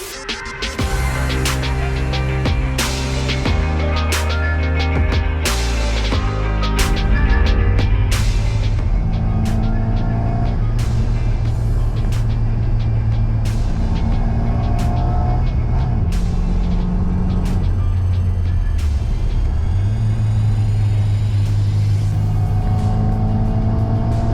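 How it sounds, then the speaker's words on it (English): A classic Mini's A-series engine burbles steadily throughout a drive, with a loud, continuous low throb that rises and falls through gear changes and revs. "the throaty sound of an A-series engine burbling away in the distant background"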